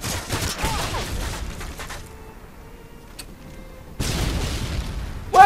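Grenades and gunfire burst in a Counter-Strike-style shooter on the Nuke map, a loud dense volley at the start that drops away, then another heavy barrage returning near the end.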